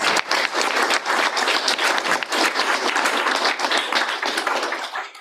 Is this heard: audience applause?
yes